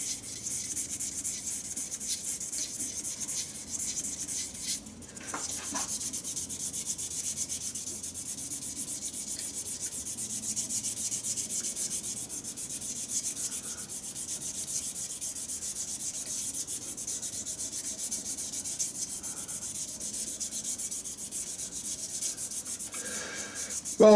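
Steady, continuous rubbing and sanding of a wooden shaving brush handle, an even abrasive hiss moving in different directions with a brief pause near the middle, close and alone.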